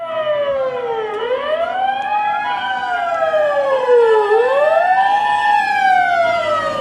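An ambulance siren passes along a street in Japan, loud and close, its wailing tone sweeping up and down over traffic noise.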